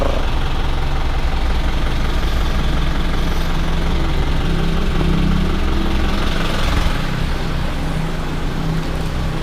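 A Honda vehicle engine idling at a gasoline station during a Honda caravan, a loud, steady low rumble that runs continuously, close and unbroken throughout.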